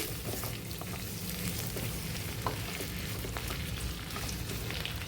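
Long-cut ivy gourd (dondakaya) pieces frying in hot oil, with a steady dense sizzle and occasional stirring scrapes throughout, close and fairly loud, no voices.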